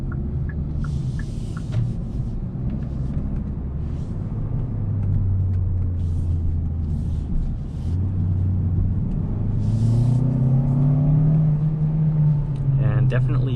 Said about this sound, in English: with this Sonata, you could hear the turbo, which is very cool